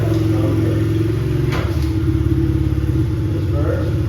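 A repaired Honda CRF 70 motorcycle engine, fixed after a broken primary gear and shift drum stopper, runs close by with a steady, loud putter, and a brief clack sounds partway through.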